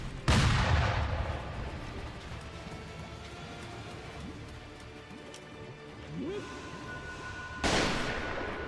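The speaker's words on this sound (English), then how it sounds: "Trying to shoot me through the wall." An enemy in the video game Sekiro fires through a wall, giving two sharp, loud gunshot reports several seconds apart over a low rumbling background.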